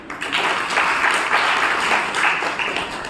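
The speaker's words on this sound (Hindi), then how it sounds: "वेरी गुड, इनके लिए ताली।" An audience at a Brahma Kumaris talk in Shahabad Markanda claps in a short burst of steady, fairly loud applause lasting about three seconds.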